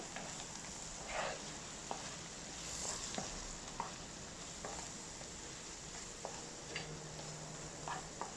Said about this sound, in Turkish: Unun kokusu çıkana kadar da 1-2 dakika daha kavurmaya devam ediyorum.